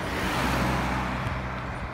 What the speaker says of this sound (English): Oh God, car.